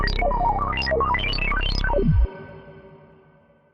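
Softube Model 80, a Prophet-5 style software synth, plays a fast rising-and-falling arpeggiated run through Cherry Audio Galactic reverb, then stops abruptly and leaves a long, fading reverb tail.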